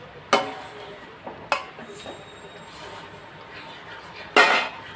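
Marinated chicken being stirred in a cooking pot, with a few sharp metallic clinks and scrapes of a utensil against the pot standing out over a quiet background.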